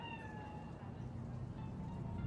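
A cat in Cyberpunk 2077 lets out a drawn-out meow, fairly faint over a low ambient rumble, followed by a softer second call.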